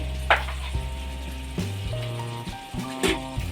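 Ground spices stirred into ginger garlic paste frying in a pan for chicken gravy, producing a close, steady sizzle with scraping strokes of a spoon and occasional louder bubbling spurts, no speech.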